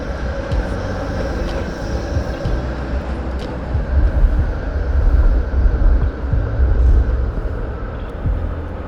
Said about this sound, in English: the first shot I managed to get of these trams coming up was this more modern one